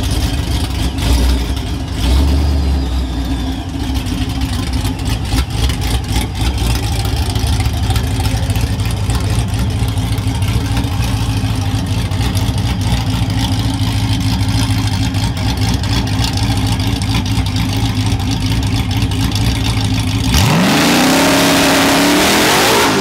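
Drag car held on a two-step rev limiter at about 4,100–4,200 RPM at a 2021 Mopar drag racing event, a loud steady crackling engine drone, then a sudden rising roar as it launches and the tires spin and smoke.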